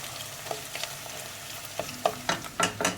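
Tomato paste sautéed in a pan for a winter soup, a quiet background sizzle punctuated by a rhythmic series of spoon scrapes and clacks that grow louder and more frequent toward the end.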